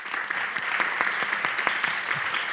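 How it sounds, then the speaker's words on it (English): An audience at a queer cinema panel talk applauds, a dense close round of clapping with sharp individual claps standing out, steady from start to finish. "but maybe give them also a bigger round of applause"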